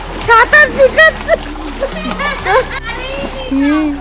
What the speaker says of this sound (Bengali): সাঁতার শিখাচ্ছে।